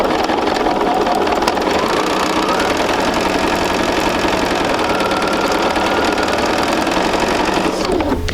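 A sewing machine stitching quilt fabric pieces one after another in a chain, a loud, close, continuous rapid whirring hum with a steady mechanical rattle that carries on without pause.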